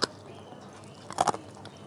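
Someone bites into a crunchy, long-lasting cheap Indonesian snack made as a small home-industry product, giving a brief crisp crunch near the start and a louder cluster of crunches a moment later, with no talking.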